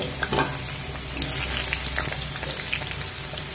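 Cut potatoes with a little salt and turmeric sizzle steadily in hot oil over a medium flame, a close, continuous frying crackle with occasional stirring scrapes.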